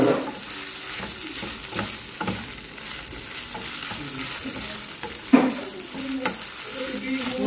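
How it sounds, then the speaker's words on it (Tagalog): Cabbage mixture seasoned with oyster sauce being stirred in a pan, a steady background sizzle with repeated scraping strokes and one sharper clack near the end. "Halo-haloin ulit natin hanggang sa ma-mix"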